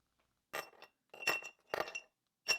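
Chunks of ice drop into a glass mason jar in four separate bright clinks and rattles, spaced about half a second apart. They sound close and crisp against silence.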